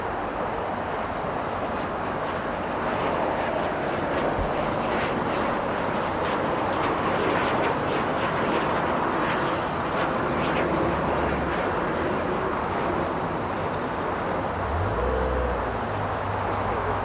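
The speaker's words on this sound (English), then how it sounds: "the Cirrus SF50 departing on 25, right?" A Cirrus SF50 jet departing runway 25 at Los Angeles International Airport, a steady broadband roar of engine and rushing air that holds level for the whole stretch, with a faint low rumble near the end.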